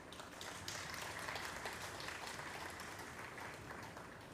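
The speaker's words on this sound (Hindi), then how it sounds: "एक बार मैं फिर से चाहूँगा कि आप ज़ोरदार तालियां बजा दें" Sustained applause from an audience at a national media conference plenary session, a dense, steady wash of many hands clapping at even loudness throughout, with no voices over it.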